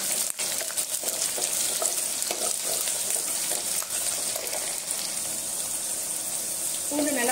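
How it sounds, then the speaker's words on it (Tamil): Peeled garlic fries in hot oil for a dried fish curry with brinjal and drumstick, a loud, steady, close sizzle with faint stirring scrapes throughout. "பூண்டு நல்லா செவந்து வந்துருச்சு."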